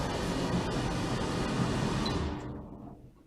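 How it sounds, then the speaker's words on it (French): A tumble dryer runs in a shower room with a steady, fairly loud whirring rumble that fades away toward the end. "ce que vous entendez c'est le sèche-linge"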